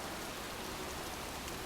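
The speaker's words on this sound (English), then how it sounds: "standing in a cemetery, pouring rain" Heavy rain pours down over a cemetery in the Heavy Rain video game, a dense, unbroken hiss of drops drumming on surfaces, loud and constant.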